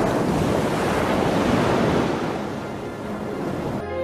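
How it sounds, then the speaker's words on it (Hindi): Sea waves wash and roll close by in a dense, surging hiss with wind buffeting the microphone, swelling then easing slightly toward the end. "समुद्र, सुंदर नीला समुद्र।"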